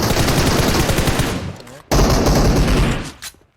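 Rapid automatic gunfire in the mobile game PUBG Mobile, two loud bursts of close machine-gun fire separated by a brief gap, with players talking in the background.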